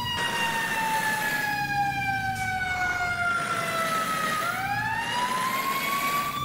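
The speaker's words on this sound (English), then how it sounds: "a lot of these fire trucks will have a cue siren." A fire truck's Q siren in the EmergeNYC game, a loud wailing tone that holds, slowly winds down and then rises again, layered with a steady engine rumble beneath it.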